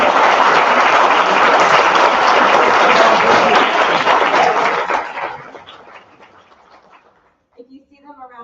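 Audience applause at an annual membership meeting as committee members stand, a loud dense round of clapping that fades out after about five seconds, followed by a few quiet sounds.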